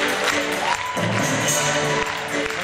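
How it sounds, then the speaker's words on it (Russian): Applause and cheering from an audience at an award ceremony, a steady dense wash of clapping with crowd noise throughout. "Под ваши бурные аплодисменты!"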